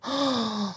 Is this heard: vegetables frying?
no